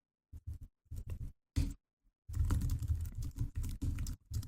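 Short bursts of clicking keystrokes on a computer keyboard while code is entered, separated by brief pauses and then a longer rapid run of typing, close and fairly quiet.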